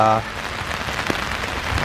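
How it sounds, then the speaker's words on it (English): Heavy rain pouring down outdoors at a graveside in Chapel Hill, North Carolina, a steady close hiss of drops striking surfaces, with a brief low voice at the very start. "it is really pouring down"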